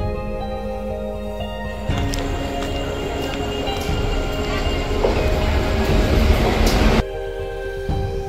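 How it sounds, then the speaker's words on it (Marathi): Suburban train journey from Boisar to Borivali near Mumbai, with loud rumbling carriage noise and rail clatter that swells as the train moves, then drops off abruptly near the end. "बोईसर ते बोरिवली प्रवास ट्रेनने"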